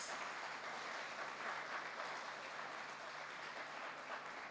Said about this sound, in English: So please give these three gentlemen a round of applause